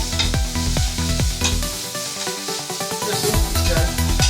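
Bitter gourd sizzles and crackles as it fries in a pan, with repeated stirring scrapes and clatter of the utensil throughout, close and fairly loud, without speech.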